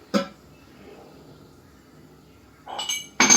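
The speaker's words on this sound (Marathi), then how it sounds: "आता मी झाकण ठेवते" A lid set onto a cooking pot of cabbage vadi gives a sharp clink near the start, then a quiet stretch followed by two louder metallic clatters of the pot and lid near the end.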